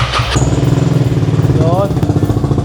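Italjet Dragster Malossi Edition scooter starting up and running, with a steady low rumbling hum close by and a brief squeal partway through. A person talks over it.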